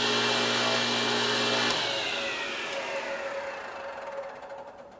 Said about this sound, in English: So if the table saw is on, I can quickly knee that if I need to and stop the table saw.